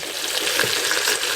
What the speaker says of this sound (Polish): I to mi się na wolnym ogniu smaży.